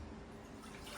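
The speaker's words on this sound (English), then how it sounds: "We're gonna fill it up with water." Tap water runs into a big cooking pot, a soft, steady hiss of pouring water, quiet and brief, with no voices.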